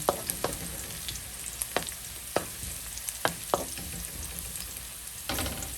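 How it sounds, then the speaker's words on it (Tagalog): Ingredients for pancit bihon sizzle in a hot pan, with a steady frying crackle and sharp, irregular scrapes and clinks of a spatula stirring against the metal. "Haluin ng saglit hanggang sa maging brown."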